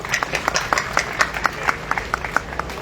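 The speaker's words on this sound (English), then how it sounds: "A big round of applause to all the organizing committees." Audience clapping at an outdoor solidarity gathering in Delhi: a steady patter of hand claps, moderately close, continuing briskly for a few seconds with a faint murmur of voices beneath.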